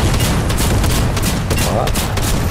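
Gunfire in a first-person shooter game crackles as rapid, loud bursts of shots, densely packed and continuous, with a player's voice partly mixed in.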